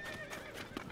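A horse in the video game Zelda: Tears of the Kingdom gives a short whinny while its hooves clip-clop as it approaches, all within a brief, close burst.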